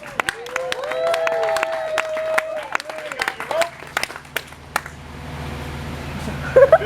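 Spectators clap at an alligator wrestling show, scattered claps and brief cheering mixed with people talking, thinning out toward the end.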